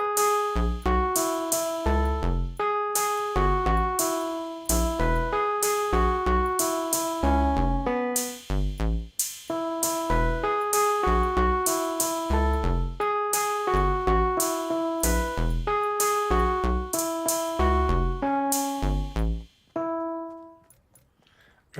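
The Shrek theme tune plays from Fortnite music blocks in the video game, a bright, evenly plucked melody with a steady beat running almost unbroken, briefly stumbling midway, then thinning to a few final tones.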